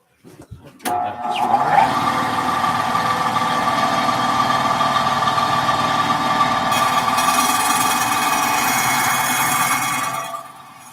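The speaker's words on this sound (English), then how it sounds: "you won't be able to see anything because the bandsaw's on the ground" Bandsaw sitting on the ground cutting cosplay material for a Gundam costume build, starting up after a click and running as a loud, sustained buzzing drone for about nine seconds before spinning down.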